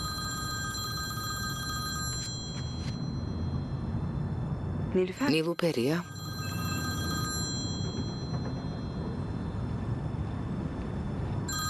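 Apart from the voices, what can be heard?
telephone ringing with a call from Rome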